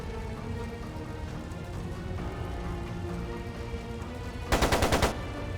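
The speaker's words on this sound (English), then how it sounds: "It sounded like a machine gun." A short burst of rapid machine gun fire in the video game Trails of Cold Steel II, about half a second of fast, evenly spaced shots standing out loudly against a quiet, humming background score.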